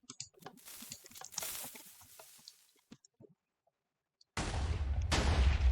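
Minecraft TNT side cannon fires a rapid burst of crackling pops and blasts that fade, then after a short silence a heavy, roaring explosion hits loud and close, continuing to the end.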